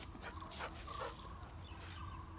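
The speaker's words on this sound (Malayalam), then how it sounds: "ആ വേറെ നായ്ക്കൾ എവിടെയോ കുരയ്ക്കുന്നുണ്ട്" Other dogs bark somewhere in the distance, a few faint, sporadic yips and barks over quiet outdoor background.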